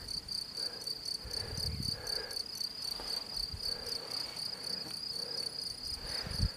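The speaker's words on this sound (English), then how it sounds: "I can hear the sound of grasshoppers." Grasshoppers on a grassy alpine hillside in Austria give off a continuous high, pulsing chirr that stays steady and fairly prominent, with faint rustles and occasional low thumps beneath.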